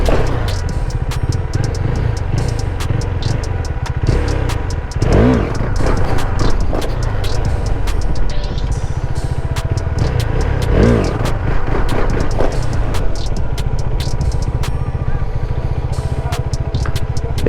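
A motorcycle engine revving and holding a steady throttle during wheelie practice, a continuous mid-distance engine drone with swells in revs, under a noisy outdoor background.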